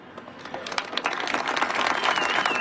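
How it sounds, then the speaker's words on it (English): Scattered, uneven clapping from a small group begins sparse and builds into a denser patter, fairly close and moderately quiet, with no voices over it. "Golf clap. Golf clap."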